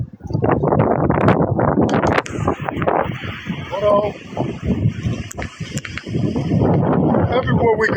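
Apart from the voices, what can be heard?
wind blowing into the microphone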